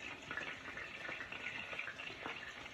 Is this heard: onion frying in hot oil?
yes